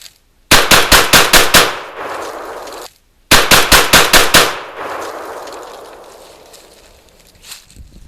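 TriStar Raptor A-TAC semi-auto shotgun fired rapidly in a stress test, two loud close bursts of about six shots each separated by a short pause, with long reverberant tails fading after each string.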